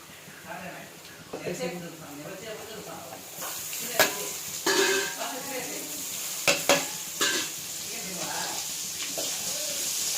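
Shredded cabbage, carrot and capsicum sizzle and hiss as they are stirred in a hot pan, with intermittent scrapes and clinks of a spatula over a steady frying hiss.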